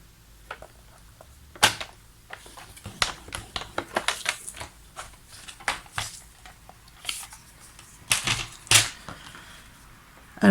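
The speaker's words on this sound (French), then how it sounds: "Alors, on va marquer les plis." Paper for a handmade gift card is creased along its folds: irregular crisp snaps, rubs and scrapes close up, some sharp and loud, with quiet gaps between.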